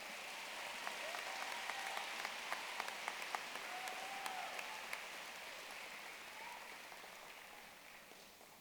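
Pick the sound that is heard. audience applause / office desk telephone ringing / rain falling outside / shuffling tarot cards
audience applause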